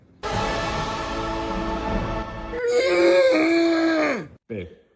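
A person's voice imitates a dinosaur roar with a drawn-out, strained moaning growl that rises, then bends downward and cuts off, followed by a short final grunt, loud and close with no other sounds.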